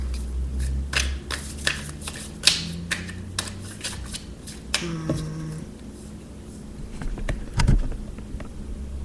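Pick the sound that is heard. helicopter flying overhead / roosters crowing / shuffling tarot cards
shuffling tarot cards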